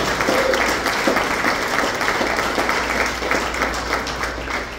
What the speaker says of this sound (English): I want to give all of them a round of applause.